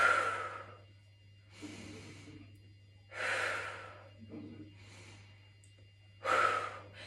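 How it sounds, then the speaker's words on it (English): Slow, deep diaphragm breaths during a vocal warm-up, heard as several long airy inhales and exhales spaced a second or two apart, close to the microphone over a low steady hum. "we're gonna breathe through the diaphragm"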